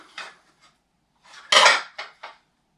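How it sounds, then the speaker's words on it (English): Ceramic dishes from a secondhand store clatter as they are handled, with a few separate clinks and a louder stacking clatter near the middle, close and with no talking. "set of dishes I picked up at my local thrift store"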